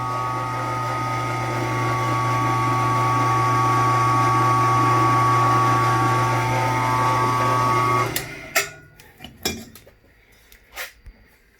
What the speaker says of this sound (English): the edge of this swedging tool is going to come down in there and flare that booster out